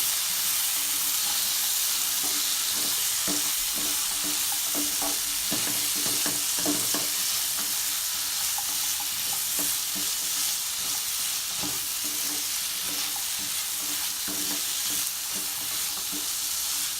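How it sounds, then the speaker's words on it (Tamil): Green peas being stirred into sautéed masala in a pan, a steady sizzle with scraping spoon strokes and soft clacks throughout, no voices. "க்ரீன் பீஸ் ஆட் பண்ணி நல்லா மிக்ஸ் பண்ணி விட்டுட்டு"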